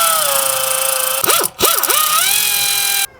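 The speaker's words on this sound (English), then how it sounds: "take off the caliper slide pin bolts with a 14mm socket" A power tool fitted with a 14mm socket spins out the caliper slide pin bolts on a 2020 Mazda CX9's rear brakes: a close, steady whine whose pitch dips and recovers twice, then stops abruptly.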